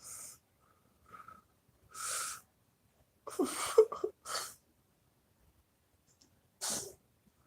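A single person sneezes near the mic with a few breathy snorts and sniffs around it, spread as short separate bursts with quiet gaps between them.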